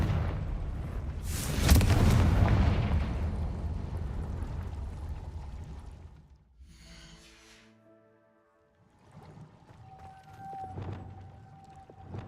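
A Confringo explosive spell goes off in Hogwarts Legacy: a loud, booming blast early on rolls into a long, fading rumble, then quieter magical tones and effects follow.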